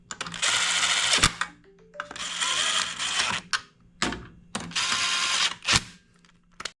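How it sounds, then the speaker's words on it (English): Ratchet clicks tighten the center bolt of a clutch compressor tool on a Serveta motorcycle clutch, coming in three sustained bursts of rapid close mechanical clicking separated by short pauses, with sharp metallic knocks between them. "Let me tighten this clutch compressor tool down"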